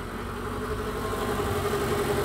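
A 2003 Mercedes SL500 engine idles smoothly and steadily, a close, even low rumble with a faint mechanical whine, no voices heard.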